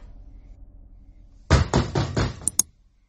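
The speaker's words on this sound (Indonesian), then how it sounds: "Aku dengar pintu kamarku kembali diketuk dengan kuat." Loud, rapid knocking on a bedroom door at night, a burst of four or five heavy raps followed by two sharp final knocks after a quiet stretch.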